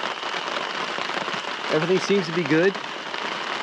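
Steady rain patters on a tarp over a campsite during a thunderstorm, a dense even hiss throughout. Someone speaks briefly partway through.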